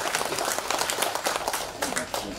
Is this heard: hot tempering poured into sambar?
no